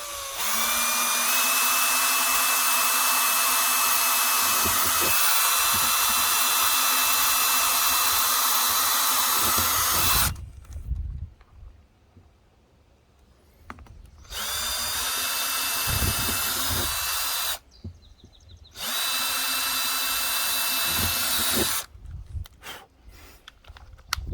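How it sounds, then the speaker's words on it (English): A power drill bores four mounting holes while installing a Haloview BT-7 Plus, with three long, loud, close whining runs broken by short quiet gaps. "I need to punch 4 holes very carefully."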